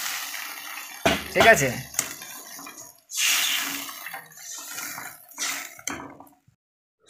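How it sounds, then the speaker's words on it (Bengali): Water is poured into a pan of spiced potatoes frying in mustard oil for a catla fish curry. Splashing, sizzling bursts come in uneven waves, with a voice talking over them. "আলুটাকে ভালো করে কষে নেওয়ার পর আবার দেখো জল দিয়ে দিল"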